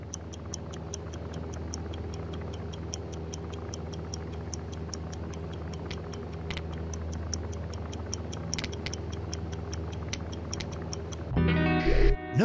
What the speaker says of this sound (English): Oh, the old ticking bomb.